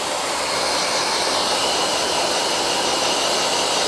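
A hair dryer blows steadily on a miniature poodle during grooming, a continuous, even whooshing hiss that holds unchanged for the whole stretch with no talking.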